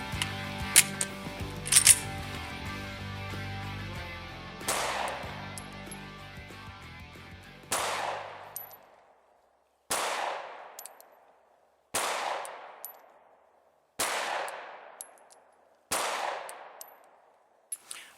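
A Glock 43 pistol fired at a range, about seven loud separate shots spaced a couple of seconds apart, each with a sharp crack and a short ringing decay, the first few over a busier background.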